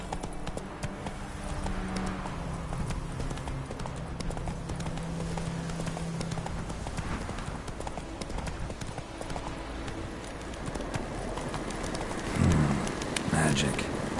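A horse trots in The Witcher 3 video game, with continuous close clip-clop hoofbeats over an outdoor ambience with birds and cooing pigeons; a voice speaks briefly.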